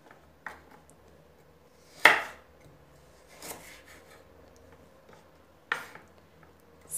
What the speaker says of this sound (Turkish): Havucu da olabildiğince küçük doğrayın.